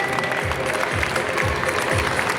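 Graduation ceremony guests at a primary school applaud in a continuous, moderately loud patter of hands, with a faint murmur of the crowd beneath the clapping.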